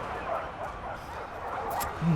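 War dogs in a Total War Arena battle give short yips and barks over a dense din of clashing units, moderately loud and mixed into the fight noise.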